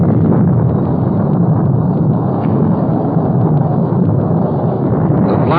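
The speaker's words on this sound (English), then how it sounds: "The blast of sound you hear comes from the 16-inch guns of the Big Mo" The 16-inch guns of the battleship Missouri fire from offshore in a 1950 broadcast recording, producing a loud, sustained, rumbling roar that fills the whole stretch like continuous thunder.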